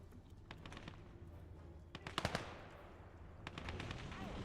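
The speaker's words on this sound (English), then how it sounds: "Who's shooting?" Scattered gunfire in the WWII strategy game Gates of Hell: Ostfront, Finland campaign: a few sharp cracks and short bursts at irregular intervals, with a louder cluster of shots midway, over a constant low battlefield rumble.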